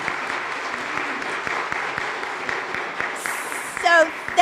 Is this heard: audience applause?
yes